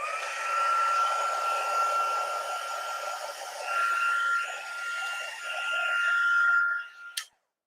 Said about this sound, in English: I'm going to take my heat gun, and that does take a minute to kind of warm up,